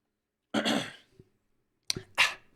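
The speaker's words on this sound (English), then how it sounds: "clear my throat." Two bursts of throat clearing, one short rasp and then a double, gruff clear a moment later, close up with silence between.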